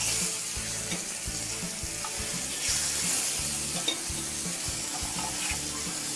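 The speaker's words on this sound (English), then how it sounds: "Listen to that sizzle." Steak sizzles steadily in a hot pan with grapeseed oil, a dense crackling hiss with occasional spatters and faint rhythmic scraping from stirring, no voices.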